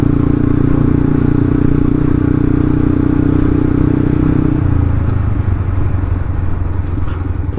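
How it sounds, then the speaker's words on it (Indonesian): A Yamaha Byson FZ16 motorcycle fitted with a Tiger carburetor runs low on fuel, its engine droning steadily and loudly up close, with the tone dropping and roughening partway through. "Dan ini BBM-nya masih, motornya belum mogok. Nah, udah mau mogok nih."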